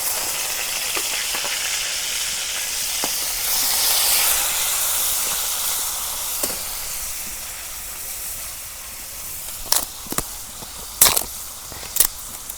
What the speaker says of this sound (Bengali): তেল গরম হচ্ছে, এখন পেঁয়াজ দিয়ে দিই।